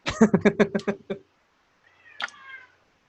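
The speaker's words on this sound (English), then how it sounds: "The cat has spoken." A cat meows in a quick series of about seven loud, close calls, then after a pause gives one longer, thinner drawn-out meow; no one talks.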